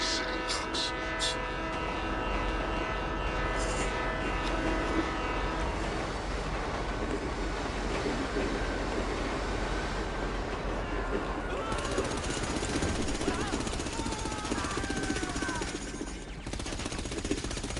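A moving train in the video game The Division 2 rumbles steadily and loudly throughout, with shots and gunfire-like bursts over the continuous rolling noise.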